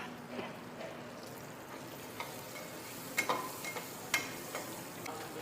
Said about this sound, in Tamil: சின்ன வெங்காயம் நல்லா ரோஸ்ட் ஆகுது, நல்லா வதங்குது.